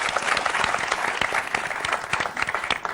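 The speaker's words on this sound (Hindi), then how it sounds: "जोरदार ताली" Loud audience applause during a Kapil Sharma interview, dense, continuous clapping from a studio crowd with many sharp individual claps standing out, no speech over it.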